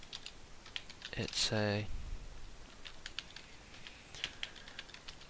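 Keys clatter on a computer keyboard in light, irregular bursts, close and fairly soft, with a brief spoken phrase near the start.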